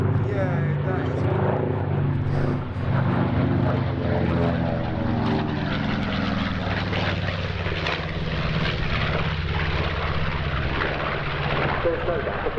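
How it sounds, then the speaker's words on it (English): A B-25J Mitchell, a WWII medium bomber, flies at the Duxford summer airshow with a loud, steady propeller-engine roar that holds throughout while people talk over it. "There's no doubt the B-25 Mitchell is one of the outstanding medium bombers of the Second World War"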